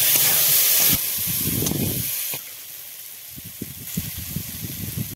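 Water poured into a pan of frying spice paste for a ghugni chickpea curry sets off loud steady hissing and sizzling that drops abruptly, then lighter crackling sizzle with clatter continues close by.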